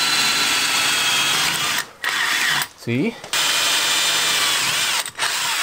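A battery drill bores holes into the center bearing of a Land Rover Discovery 3 drive line. The whine is loud and close, running in bursts with short pauses and a brief spoken word between them.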